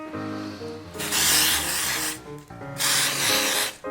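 Two hissing bursts of super glue sprayed from a spray can while replacing bumpers on rails, each lasting about a second, close and loud, over steady background music.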